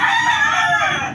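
A medium-sized fighting rooster crows nearby, one loud sustained cock-a-doodle-doo call.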